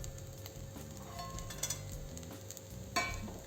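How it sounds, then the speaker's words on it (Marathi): Roasted semolina with cashews and almonds stirred in a pan over low heat produces a soft, steady scraping and faint sizzle, with light clicks of the spoon against the pan and one sharper tap near the end. "आणि 5 मिनिट असंच फिरवून घेऊ कमी गॅसवर"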